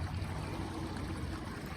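Steady broadband rushing of spring water flowing down from a hill across a field in the Carpathians, a constant turbulent roar with no talk, close and continuous throughout.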